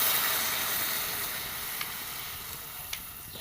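Steady broadband sizzling of bitter gourd frying in oil, fading slightly over time, with a couple of faint clicks; no voices.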